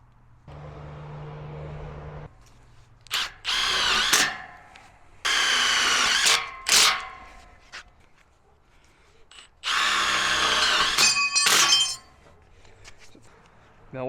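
During framing of a 32 by 32 foot shop, a power drill drives screws in three loud whirring bursts of a second or two each, with clinks and scraping between them and a voice talking in the gaps.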